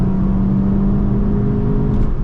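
A 2025 VW Jetta GLI pulls away hard from a standstill in a launch, its engine a loud, steady, sustained drone with a continuous whir that stays level throughout the short stretch, with no talk over it.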